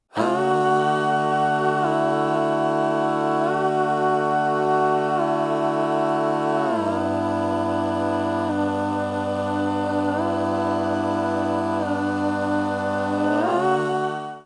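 Sustained four-voice chords played on Rock Band video game instruments, the harmony holding long tones and shifting together through a few smooth chord changes, steady and even with no talking.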